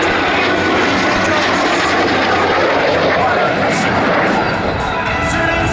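A Zéphyr naval trainer aircraft flies at the Ferté Alais air show, its engine a loud, continuous roar that stays close throughout, with an announcer speaking over it.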